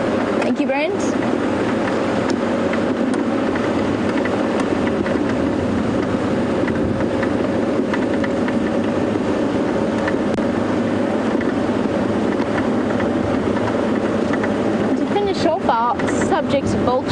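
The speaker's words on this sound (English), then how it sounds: "It is that windy out here." Strong wind blows across an open-air safari vehicle on a sunset game drive, a constant loud rush and rumble buffeting the microphone while people talk over it.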